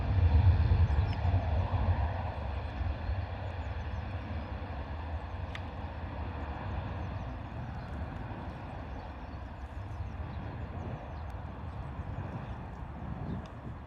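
An EasyJet airliner takes off at Bristol Airport on a windy, gusty day, heard as a distant, steady low roar of jet power that swells at first and then holds, with no talk over it.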